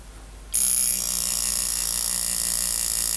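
A 1974 Seiko Bell-Matic alarm watch starts ringing abruptly after a brief quiet moment, its little internal hammer making a continuous high, metallic buzzing rattle that holds steady and fairly loud.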